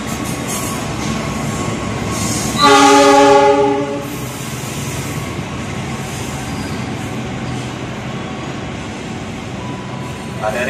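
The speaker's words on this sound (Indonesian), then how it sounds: "kereta api melintas langsung" A train passes straight through a railway station without stopping, sounding a loud blaring horn early on amid steady rolling wheel rumble and rail clatter, with a platform announcement voice faintly behind.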